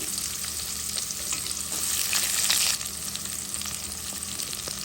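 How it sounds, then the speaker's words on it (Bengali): Onions fry in leftover hilsa fish oil, giving a dense, loud, steady sizzle that swells briefly midway, with faint scattered stirring ticks and no voices. "দিলাম পেঁয়াজ। মাছের তেলটা ছিল, দিয়ে দিচ্ছি।"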